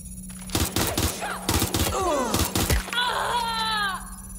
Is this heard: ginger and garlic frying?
no